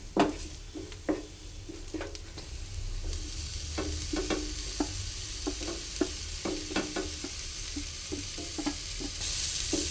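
Capsicum and a spoonful of flour (maida) sauté in a pan as a base for chicken soup, with a steady close sizzle broken by repeated scraping, clicking stirs of a spoon against the pan.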